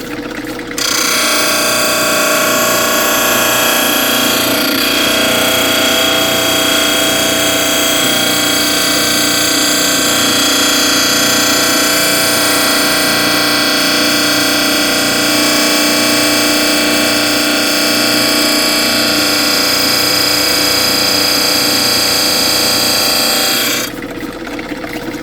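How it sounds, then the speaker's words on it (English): A grinding wheel shapes a stone pistol grip, giving a loud, steady, continuous abrasive whine that runs unbroken for most of the stretch before cutting off near the end. "I want to keep it at a slight angle so it's grinding as it grinds in, and it's grinding along"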